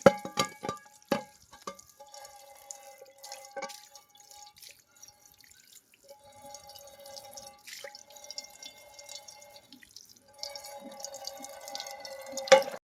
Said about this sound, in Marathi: तवा तर जरा घाण झालेला आहे, तर आपण हिला धुवून घेऊया आता पाणीमध्ये घालून